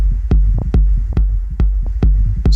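A deep techno drum bus running in Ableton, punchy low kicks pulsing about twice a second with ticking hats and percussion between, loud and upfront with no voices.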